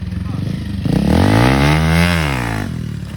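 A Bajaj Pulsar 220 motorcycle engine revs hard, pitch sweeping up to a loud sustained peak and dropping back down, close and dominant over faint background noise.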